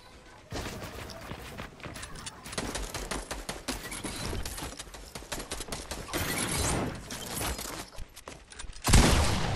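Rapid gunfire in the video game Fortnite Battle Royale during a final fight, dense bursts of shots running almost continuously under game noise, ending in a louder blast.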